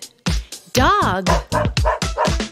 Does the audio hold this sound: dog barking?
yes